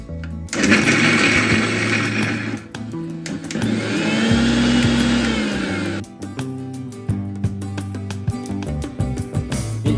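Electric mixer grinder blending green chillies and coriander leaves into a paste, a loud whirring motor running in several bursts that stop and restart, with clattering jar noise between runs and no speech.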